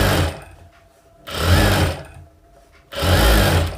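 A sewing machine stitches princess cut blouse pieces in three close, loud bursts of rapid mechanical whirring, each separated by a short pause as the fabric is repositioned.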